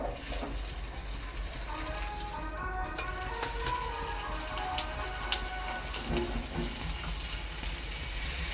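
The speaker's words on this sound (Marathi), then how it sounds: "आता या स्ट्रीप आहेत ना एक एक तेलात सोडायचे आहेत" Veg sticks coated in flour deep fry in hot oil, giving a steady, close crackling sizzle like light rain that runs evenly throughout.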